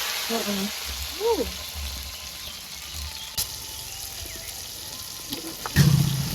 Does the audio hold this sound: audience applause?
no